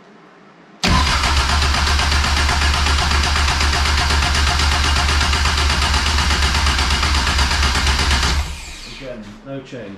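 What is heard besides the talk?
Caterham 420R car engine idling after start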